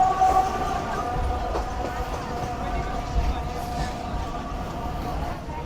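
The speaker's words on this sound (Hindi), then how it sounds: "गक्कर मंडी रेलवे स्टेशन से ट्रेन हमारी स्लो पास कर रही है" A train rolls slowly through Gakkhar Mandi railway station in Pakistan, its steady low rumble and rail noise continuous and fairly close, with faint voices mixed in.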